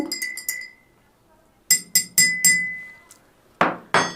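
A spoon stirs saffron in a glass of water, making bright clinks against the glass in quick clusters of three or four, separated by quiet pauses, close and crisp.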